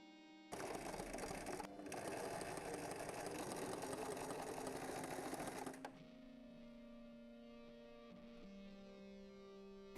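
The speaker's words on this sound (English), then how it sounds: "I'm going to sew right sides together, the two front panels and the two back panels along the crotch line." A sewing machine stitches trouser panels together along the crotch seam, running at a steady fast clatter for about five seconds, then stopping and leaving a faint lingering hum.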